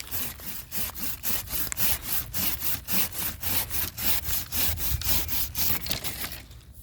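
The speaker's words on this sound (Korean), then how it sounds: "가운데 쪽은 이 제일 굵은 거 얘를 잘라줍니다" A pruning saw cuts through the thickest central branch of a young persimmon tree during winter pruning. It makes a steady rasping rhythm of about a dozen even back-and-forth strokes, close up, with no talking.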